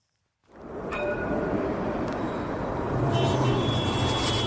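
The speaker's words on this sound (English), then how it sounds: "The distant roar of traffic on a freeway" Urban ambiance with distant freeway traffic: a steady, broad rumble that fades in and holds constant, with faint tonal whines riding on top and no voices.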